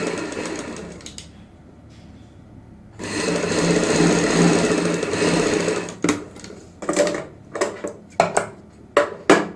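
Sewing machine stitching gota trim onto a sleeve, a few short bursts, then a steady run of needle chatter, followed by rapid stop-start pulses toward the end.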